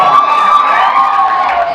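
Award ceremony audience cheering loudly for the best series award recipients, a bright, dense burst of crowd shouts and whoops sustained for a short moment.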